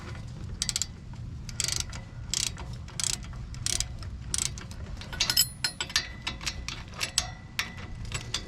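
Ratchet wrench tightening the rear brake caliper bolts on a 2022 Nissan Pathfinder: bursts of rapid, close metallic clicking in short strokes with brief pauses, over a low steady hum.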